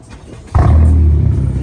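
A 2019 Honda Accord widebody with a very loud exhaust fires up on a cold remote start, a sudden deep roar bursting in after a quiet moment and holding strong to the end.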